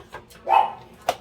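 A dog barks in a home kitchen with one sharp, close bark and a shorter yip after it, against a quiet background.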